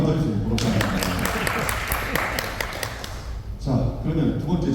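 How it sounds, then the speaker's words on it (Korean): An audience applauding at a book launch event, dense broadband clapping spread across the room, building and fading with short gaps, heard alone without talk over it. "박수 한번 더 주세요."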